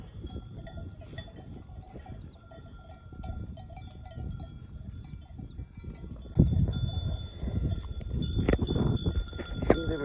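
Sheep mill about outdoors with scattered bleats, rustling and shuffling, a bell clanking now and then, growing busier and closer toward the end.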